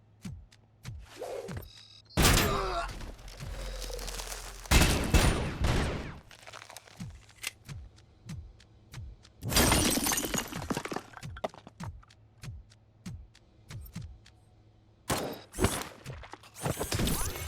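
Combat from RoboCop Rogue City with a freeze gun: repeated bursts of cracking, shattering impacts and crunching hits, loud and close, separated by quieter stretches of low thudding footsteps and background rumble.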